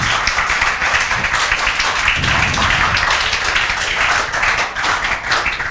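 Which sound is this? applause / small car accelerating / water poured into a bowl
applause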